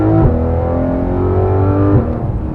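A Porsche 911 GT3 RS (991) with a naturally aspirated flat-six engine drones loudly and steadily from inside the car, its pitch dipping briefly then settling.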